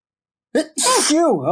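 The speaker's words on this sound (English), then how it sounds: "I think that's the first time I've sneezed on this thing" A single loud, close sneeze bursts out with a sharp intake and explosive release, followed right away by a voice speaking on a show.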